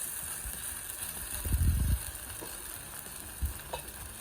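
Cauliflower potato pancakes containing raw egg fry in a pan with a quiet, steady sizzle. A couple of low thumps and scrapes from a utensil come through, one of them the loudest moment, and there is no talking.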